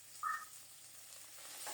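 Fish pieces and potatoes fry together in a kadai of oil, giving a faint, even sizzle with one brief brighter pop near the start.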